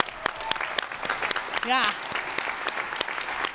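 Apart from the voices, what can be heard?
audience applause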